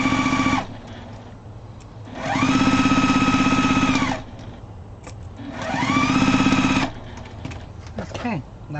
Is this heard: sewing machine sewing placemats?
yes